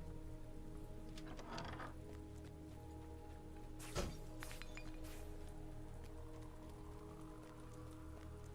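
Steady pink rain pattering down in a fantasy video game, a continuous dense hiss of drops over a low ambient drone, with a brief sharper splash partway through.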